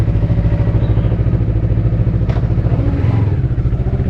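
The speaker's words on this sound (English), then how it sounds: "So my bike is pretty loud." A loud motorcycle engine idles and rumbles steadily close by in a parking lot in the early morning, a deep continuous throb with slight clatter and no talking.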